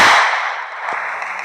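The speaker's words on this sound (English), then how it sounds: "Where's the fireworks? Wow, that was so loud." A firework bursts with a loud, sharp crack that decays into a long, hissing crackle and rumble, with a small extra pop partway through.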